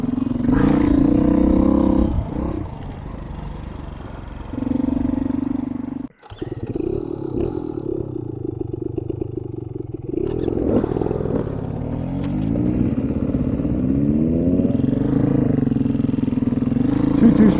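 Dirt bike engines, two-stroke and four-stroke machines including a Beta 500 four-stroke, run loudly and continuously, revving and shifting pitch with a brief cut near the middle before climbing again.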